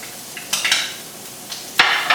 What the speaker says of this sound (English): So we're going to heat up that oil. Alright, so in that oil we're going to add our peas.